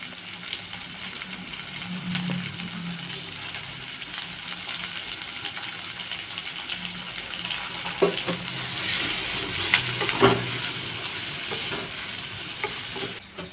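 Onion and curry leaves sauté in a pan with garlic and chana dal, giving a continuous soft sizzle with occasional stirring scrapes and a brief surge of hissing midway.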